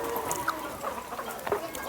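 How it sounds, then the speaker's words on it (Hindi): A plump hen clucking in short scattered bursts near a home yard, soft and intermittent over a low background hiss. "क्या लेगी ये मुर्गी, कितनी मोटी हो रही है"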